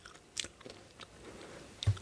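Crunchy popcorn is chewed close to the microphone in a few quiet, irregular crunches and bites, with no talking.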